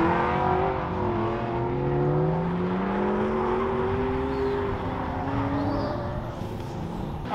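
A Nissan Skyline R32 drifting at a Dallas car event, its engine holding a loud sustained rev that rises and falls in pitch, close by and with no talking over it.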